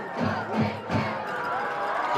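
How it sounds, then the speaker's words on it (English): A high school football crowd at a Casa Roble versus Bella Vista game cheers and roars, swelling in a few loud surges before settling into a sustained, energetic din. "The band getting into it, the crowd getting into it."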